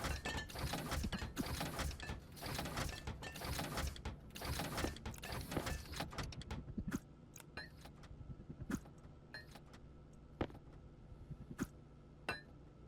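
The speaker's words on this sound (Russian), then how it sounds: "Принтер электроники." An electronics printer runs in the game Stationeers with dense mechanical rattling and jangling clatter for about six seconds. After that it drops to quieter scattered clicks and ticks over a low hum, with no speech.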